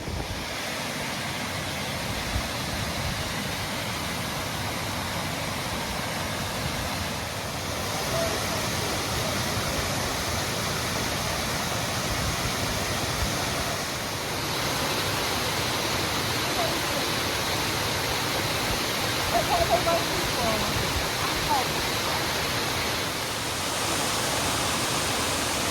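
Scaleber Force waterfall in the Yorkshire Dales, a steady broadband rush of falling water heard close up and continuous, with faint wind noise on the microphone.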